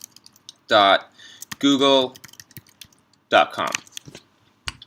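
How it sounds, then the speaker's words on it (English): Keys on a computer keyboard clatter in short bursts of quick typing as a web address is entered, up close, interleaved with a person speaking. "I'm going to go to my browser search bar and I'm going to type in"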